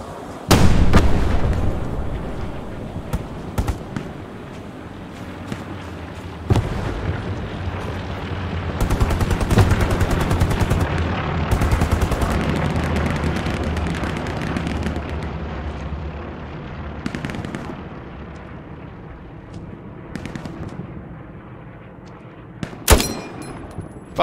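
Battle in the World War II shooter Hell Let Loose, with loud gunshots and explosion blasts, especially at the start and near the end, over a continuous rumbling din of distant fire.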